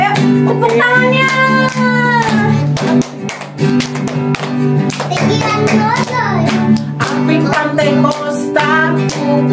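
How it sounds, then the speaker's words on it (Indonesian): Children in an online Sunday worship service at GBI Tanah Abang, Jakarta, clapping in steady rhythm along to a loud sung worship song with music, the regular claps sounding clearly under the singing throughout. "ayo tepuk tangannya."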